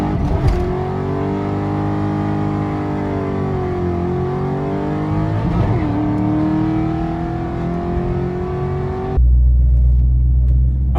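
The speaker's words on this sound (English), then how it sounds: "now we're gonna make a little bit more spirited pass." A Ford Mustang Mach 1 fitted with an SLP Loudmouth 1 exhaust revs hard on a spirited pass, its loud, sustained engine roar rising and dipping before cutting to a low rumble.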